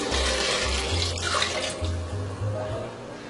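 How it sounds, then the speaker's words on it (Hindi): Two glasses of water poured into fried mutton paya in a pressure cooker, a steady continuous splash and gush running close and loud for the whole stretch, with no talking over it. "इसके अंदर डालेंगे 2 गिलास पानी।"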